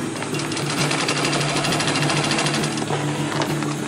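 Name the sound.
sewing machine sewing a dense stitch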